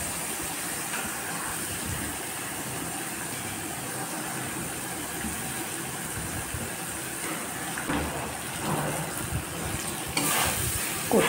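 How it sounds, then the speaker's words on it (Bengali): Taro pieces fry in a pan with salt, making a continuous low sizzle with light stirring clatter. It stays fairly quiet and steady, with a few louder scrapes near the end. "কচুটা ভাজা হয়ে এলে"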